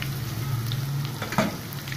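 Ginger garlic paste fries in hot oil for a karela curry, a steady soft sizzle with a brief stir or scrape partway through, quiet and without talk.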